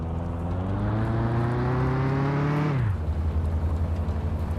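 A car in the video game Mon Bazou drives with a steady, loud engine drone that rises in pitch as it accelerates, then drops abruptly to a lower hum partway through, as if shifting gear or easing off.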